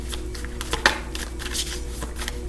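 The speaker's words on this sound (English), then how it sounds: "We're going to do a quick shuffle here." Tarot cards being shuffled by hand, a run of quick riffling and flicking bursts, close and fairly soft, with one sharper snap partway through and no talking.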